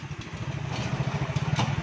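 A motorized tricycle engine idles and putters close by on a wet rural road, a steady low chugging throb with light mechanical clatter and no voices.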